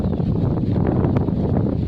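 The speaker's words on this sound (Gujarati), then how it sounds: "પવન પણ અત્યારે નીકળ્યો છે" Strong wind buffets the microphone in a continuous low rumble with gusty fluctuations, loud and close, no voices.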